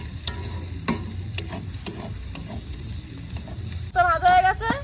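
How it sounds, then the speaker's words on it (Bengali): A spoon scrapes and stirs food in a frying pan over a low steady sizzle, with repeated sharp strokes against the pan and a louder burst of activity near the end. "ভালো করে মাখিয়ে নেবো এটাকে"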